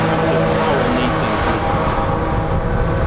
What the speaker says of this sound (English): it's the Rolls-Royce EJ 200 engines. Absolutely stunning.